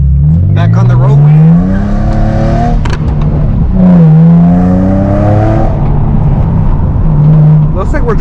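An Infiniti G35 with aftermarket modifications drives on the road after a professional alignment, its engine droning loudly from inside the cabin and rising and falling in pitch as it accelerates and shifts.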